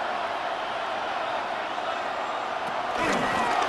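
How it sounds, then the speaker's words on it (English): A stadium crowd in Madden NFL 26 roars steadily at a loud playoff game, a broad wash of noise that swells briefly near the end. "this crowd trying to force a false start here"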